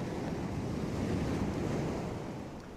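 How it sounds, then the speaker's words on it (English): The sea washes and roars in a steady wash of waves, mixed with wind buffeting, a continuous broad rumble that eases slightly toward the end. "Listen to the sea."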